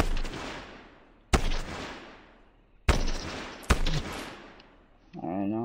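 Gunfire in the Fortnite video game comes as four loud, sharp shots spaced over several seconds, each decaying in a long echoing tail, followed by a short burst of talking at the end.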